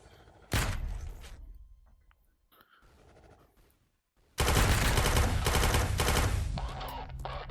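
Assault rifle fire in the VR shooter Quantum Threshold: one short loud burst, a quieter lull with faint thumps, then a sustained rapid automatic volley close up, with no talk.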